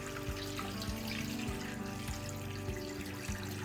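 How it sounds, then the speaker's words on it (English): Salt water poured into a jar of limes for pickling, a continuous liquid pour with gurgling and sloshing, close and steady throughout, no talking. "So I'm going to add the salt water to it"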